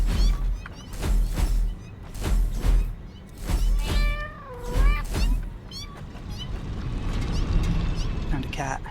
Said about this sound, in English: Found a cat.